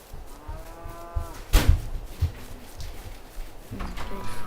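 A cow in Farming Simulator 22 moos a few times, drawn-out and tonal, with a sharp bump in the middle and faint background noises.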